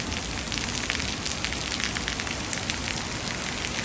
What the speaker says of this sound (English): Yeah, nice cool breeze and some nice downpours.